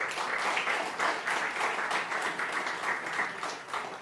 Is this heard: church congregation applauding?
yes